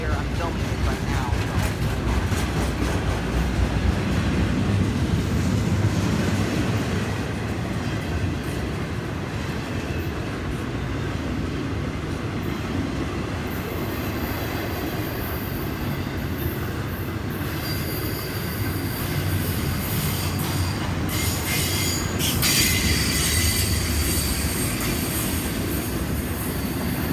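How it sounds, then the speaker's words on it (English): A train rolls past on a rainy day, a loud continuous rumble with high-pitched wheel squeal rising in the latter half, close to the listener, with occasional speech over it. "finally we have a returning train car"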